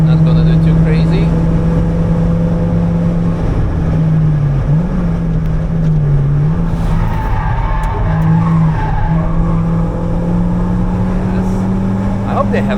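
A Ford Fiesta ST rental car on a Nürburgring push lap, its engine droning loudly and steadily from inside the cabin with rising and falling pitch as the revs shift. Tires squeal in places, and voices talk over it.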